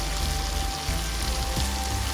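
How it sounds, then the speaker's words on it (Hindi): Chicken frying in a pan with a steady, dense sizzle that runs unbroken at moderate loudness, with no voices. "चिकन को हमने 5 मिनट के लिए अच्छे तरीके से भून लेना है"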